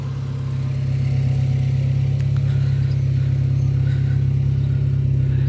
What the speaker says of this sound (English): that's how it runs with the AC and power steering